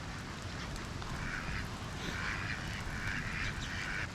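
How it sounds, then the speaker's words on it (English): Ducks on a lake on Terceira Island give repeated nasal quacks at moderate distance over steady outdoor background noise, the calls clustering in short bursts. "All of the ducks just came to this side."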